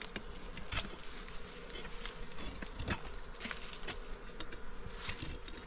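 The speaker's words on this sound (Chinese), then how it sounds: "蜜蜂好多。" A dense swarm of honeybees buzzes steadily around a nest inside a wall of stacked stones, a continuous close hum with occasional louder passes of individual bees.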